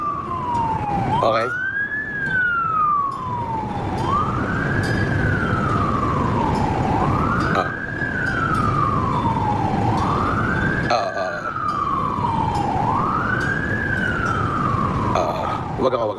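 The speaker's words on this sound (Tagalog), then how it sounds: "Baka kasi may wangwang eh." An emergency siren wails in a long rising and falling cycle, loud and continuous over a rumbling vehicle, with voices speaking over it.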